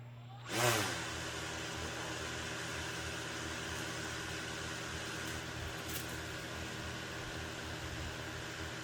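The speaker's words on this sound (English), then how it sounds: "this is going to be the Spinup with the standard DJI propellers" DJI Mavic Air 2 drone fitted with standard DJI propellers spins its motors up with a brief rising whine, then holds a steady, fairly quiet hum throughout.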